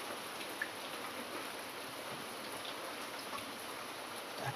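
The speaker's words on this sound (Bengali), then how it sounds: "তুমুল বৃষ্টি রাস্তায়" Heavy downpour on a street in Kolkata during a thunderstorm, a steady dense hiss of rain with no talk, holding loud and even throughout.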